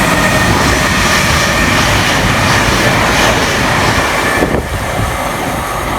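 A Greater Anglia train on the Great Eastern Main Line passes through a station at speed, giving a loud, steady broadband roar that holds throughout and dips slightly near the end.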